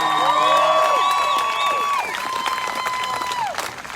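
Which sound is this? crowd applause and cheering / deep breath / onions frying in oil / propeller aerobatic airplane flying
crowd applause and cheering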